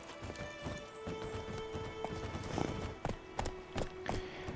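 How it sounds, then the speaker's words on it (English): Horse hooves clip-clop at a steady walking rhythm in the video game The Witcher 3, close and clear over a low droning ambient backdrop. "So, we have our horse."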